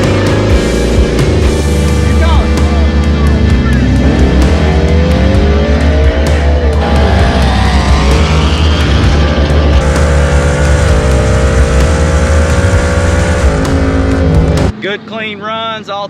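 Roll races between a RAM TRX and a 1000 HP supercharged V8 Ford F150 known as The Wolf: loud, sustained engine roar with rising revs and tire noise, voices talking over it, ending abruptly in a brief quieter section.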